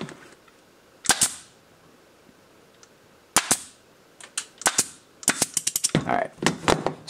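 An Iron Man mechanic nail gun fires a string of sharp snapping shots outdoors in cold weather, first two or three spaced pops, then a rapid burst of quick cracks near the end, loud and close with no talk.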